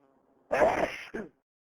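A single sneeze inside a tour hallway: one short, loud, breathy burst followed by a brief second catch. Before it comes only a faint hum.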